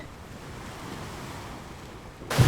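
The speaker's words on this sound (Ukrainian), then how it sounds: "Послухайте просто який шум в лісі" Strong wind roaring through a forest during a thunderstorm, a steady broad rushing hiss that swells into a sudden loud gust buffeting the microphone at the end.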